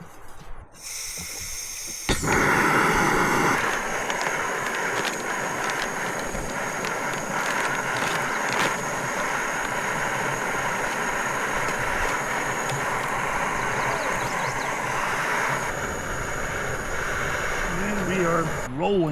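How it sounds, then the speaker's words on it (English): A Fire Maple knockoff jet-style camping stove burns with a steady, close roaring hiss at an outdoor moto campsite, while people talk over it. "With our fire maple stove. It's a knockoff jet stove."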